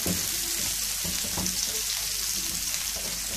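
Onions and chicken sauté together in a pan for chicken shawarma, giving a steady, close sizzle that holds even and dense throughout with a few soft stirring scrapes and no voices.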